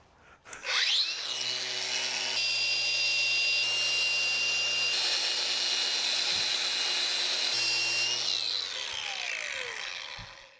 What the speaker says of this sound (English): I ended up taking to the grinder to all the edges, including the top.